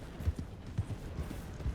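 Hooves of a skittish mare clip-clop in an uneven, soft rhythm across a Red Dead Redemption 2 game world, a few louder footfalls standing out over a low, rumbling background.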